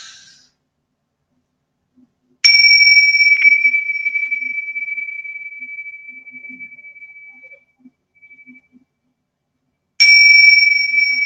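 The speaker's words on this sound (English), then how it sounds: "I'm just going to ring this bell" A bell is rung twice: one bright ding that rings out and decays slowly over about five seconds, then a second strike near the end of the stretch.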